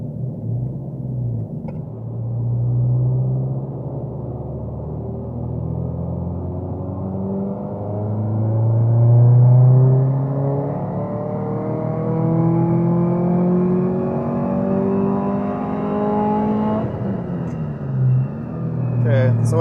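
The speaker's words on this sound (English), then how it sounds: "we're going to move on to doing some wide open throttle pulls" A Subaru STI with a turbocharger runs wide open throttle pulls on a dyno, its engine climbing steadily in pitch through the revs, loud and close, with a brief drop and a second rise near the end.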